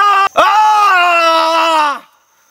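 A man lets out a loud, sustained scream with a brief break near the start, then cuts off abruptly into silence, recorded close during a film take.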